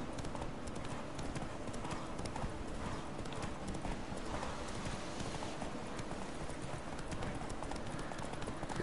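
Hooves pound in a fast, continuous rhythm, a galloping horse in The Witcher 3 video game heard close against a dense, rumbling background, fairly faint overall.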